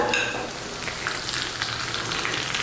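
Ingredients fry in hot ghee, a bright continuous sizzle close by with crackling pops at the start and scattered spatters throughout, no voices.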